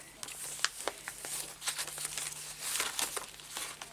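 Very old, fragile paper is handled and crinkled during a journal flip-through, giving close, dry rustles and crackles in uneven bursts throughout.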